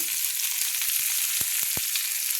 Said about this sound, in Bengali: এক চামচ লবণ দিয়ে ভালো করে মেরে নিলাম দিয়ে আলুগুলোকে আমি একটু এক দু মিনিট আমি ভেজে নেব লাল লাল করে